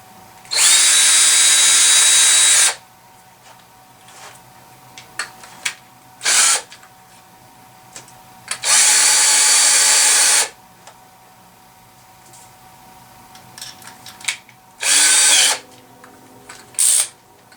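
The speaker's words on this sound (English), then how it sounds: "pre-drill like this. Don't want to go too deep, that's why I'm using this block" A power drill on its weakest setting whirs in four bursts pre-drilling wood, two long and two short, separated by quiet gaps with small clicks and handling noises.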